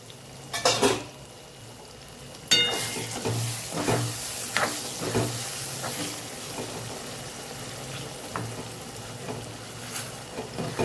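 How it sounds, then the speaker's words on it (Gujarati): Sev galka vegetable curry cooks in a pan on a low flame, with a soft continuous sizzle broken by scraping stirs and a few clinks of a utensil against the pan. "હવે આપણે સાવ ગેસ ધીમો રાખી અને 1 મિનિટ આપણે એને પાકવા દઈશું"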